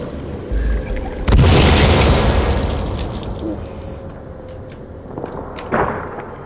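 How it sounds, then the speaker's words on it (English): Time bomb exploding in the video game Sons of the Forest: one loud, deep boom bursts out and decays into a rumbling tail, followed by scattered smaller clatters. "We have time bombs on the ground for just such an occasion."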